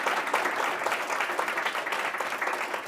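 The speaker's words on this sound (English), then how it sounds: "Round of applause for that." Audience at a talk on climate and health claps continuously, a dense, even wash of applause lasting the whole moment without a break.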